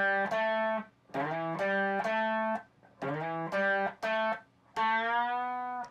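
Distorted electric guitar playing phrases, a series of sustained notes with a full-step string bend, separated by short gaps, loud and alone.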